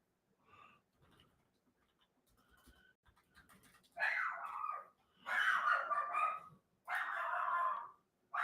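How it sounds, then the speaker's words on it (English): A dog indoors barks at something it senses outside, a few faint early yips followed by three louder bursts of barking in quick succession, each a cluster of sharp barks. "That's my dog throwing a fit because she's decided that there's something outside that's dangerous."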